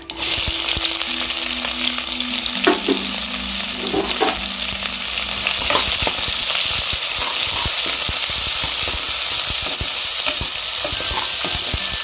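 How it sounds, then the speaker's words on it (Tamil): Chopped onions sauté loudly in a pan for tomato rice, with a steady close sizzle and repeated scraping stirs throughout. "வெங்காயம் நல்லா வதங்கிட்டு கருவேப்பிலை சேர்த்துக்கலாம்."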